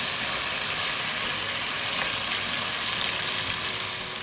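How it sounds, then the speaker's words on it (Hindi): Green tomatoes fry with spices in a pan, making a continuous even sizzle and hiss close to the microphone that never pauses, with no voices. "अब एक दो मिनट हम इसको ऐसे ही भून लेंगे"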